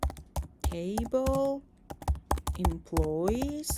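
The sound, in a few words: typing SQL commands on a computer keyboard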